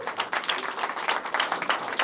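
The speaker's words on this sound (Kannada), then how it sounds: "ಸೊ ಹೀಗೆ ಚಪ್ಪಾಳೆ ಕಂಟಿನ್ಯೂ ಮಾಡಿ." Applause from an audience at a Kannada stand-up comedy show, with a crowd of hands clapping in a brisk, uneven patter at moderate volume for the whole stretch.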